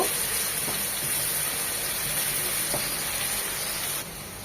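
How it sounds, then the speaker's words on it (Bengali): Prawns sizzle in hot oil with onions, a steady broad hiss of frying held at an even level throughout, with a couple of faint utensil clicks and no voices. "চিংড়িটা দিয়ে জাস্ট এক মিনিট একটু হালকা করে তেলে পেঁয়াজের সাথে একটু ভেজে নেব"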